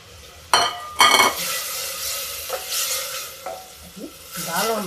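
Soaked chana dal goes into cooking masala with loud sizzling bursts, then a steady fry under repeated stirring and scraping of a spoon in the pan.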